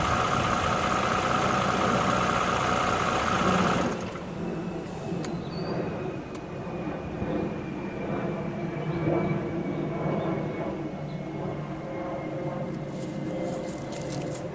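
A small piston aircraft engine idling steadily, then cutting off at about four seconds, leaving quieter ambient noise with faint whines and clicks as it winds down.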